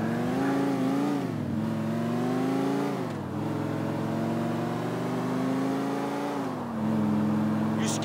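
A car engine in Grand Theft Auto IV drones steadily, rising and falling in pitch as it accelerates and shifts, with a smooth synthetic quality and no voices.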